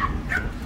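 A dog lets out a single short, sharp yip or bark close by, brief and moderately loud, with a small dog and puppies present indoors.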